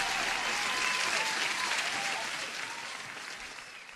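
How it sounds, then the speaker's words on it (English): Applause for a trader's new funded futures account, steady clapping from a group that holds strong and then slowly thins and fades across the few seconds. "let me give you an applause"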